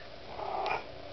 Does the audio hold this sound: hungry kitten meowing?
yes